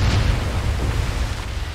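A deep, rumbling explosion in the Medal of Honor Above & Beyond VR game, loud and sustained with heavy low-end roar and no talk over it.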